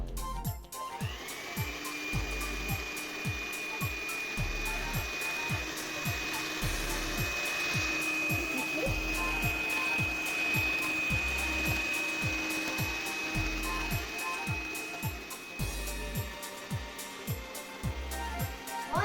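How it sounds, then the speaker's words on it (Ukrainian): A hand-held electric mixer beats kefir cake batter in a bowl after vanilla sugar is added. A steady motor whine sits under rhythmic rattling and clicking from the beaters, which hit the bowl repeatedly at close range. No one speaks. "Додаємо ванільний цукор. Все збиваємо."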